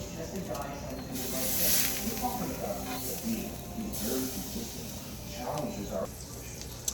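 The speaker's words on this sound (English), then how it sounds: "So while butter is still melting a little bit" Butter melting in a hot pan gives a steady, close hiss and sizzle with brief louder flare-ups, while a person talks over it.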